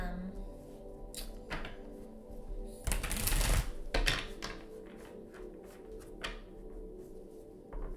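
Papery riffling and soft slaps of tarot cards being shuffled, with a louder burst of riffling midway and quieter handling sounds around it.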